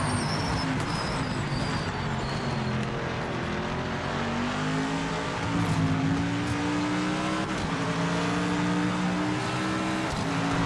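Race cars in the video game Project Motor Racing, including an Aston and an AMG, roar with continuous loud revving engines and shifting pitch, a dense steady racing drone with brief tire squeal.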